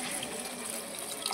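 Water is poured into a pan of pumpkin curry (gummadikaya dappalam), a faint, steady splashing stream over a short moment.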